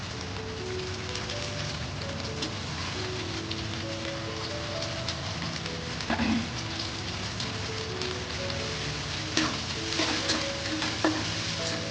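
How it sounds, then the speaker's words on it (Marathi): Chopped tomato fries with browned onions in a hot pan, a steady rain-like sizzle with occasional stirring clicks, close and fairly even. "टोमॅटो ही चांगले एकदम गर होईपर्यंत फ्राय करायचं आहे कांद्यासोबत"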